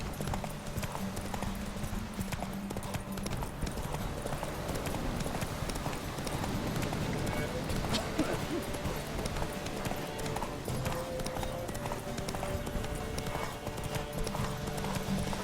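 A horse gallops steadily in The Witcher 3, its hoofbeats a continuous rapid clip-clop at moderate volume throughout, with occasional faint whinnies and ambient game sounds underneath.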